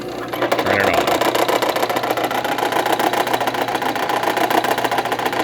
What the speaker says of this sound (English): I stand clear of machine and I turn the press on